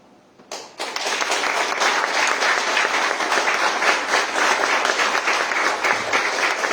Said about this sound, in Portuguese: Vamos ficar em pé e louvar a Deus com palmas